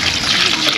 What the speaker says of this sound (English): So after pounding, you add water to make sure that you have all the food or the food out.